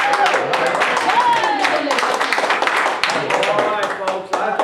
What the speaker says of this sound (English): One more round of applause for this sweet lady right here